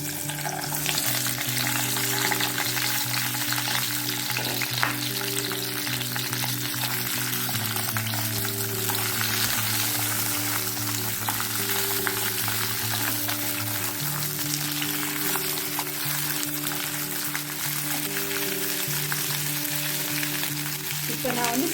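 Ivy gourd pieces fry in hot oil in a pan, a steady, dense sizzle with occasional stirring scrapes running continuously and close up, with a low background hum.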